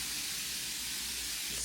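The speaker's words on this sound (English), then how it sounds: "spraying my face with some of this hypochlorous acid" A fine mist of hypochlorous acid face spray hisses in one steady, continuous burst close to the microphone, broadband and even throughout with no pauses.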